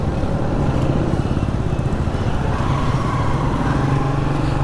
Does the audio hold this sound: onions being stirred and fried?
no